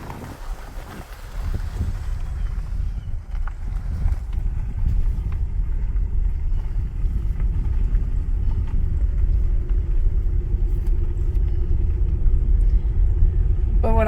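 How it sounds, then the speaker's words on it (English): Car tires roll over gravel in a low, continuous crunching rumble under engine and wind noise, growing steady after the car pulls away and holding at a constant level throughout. "Always love the sound of the tires on the gravel."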